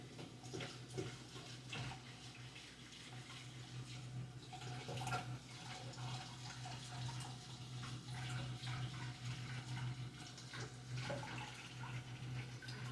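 A spatula is rinsed under a running kitchen tap, with a steady, soft stream of water splashing continuously and no one talking.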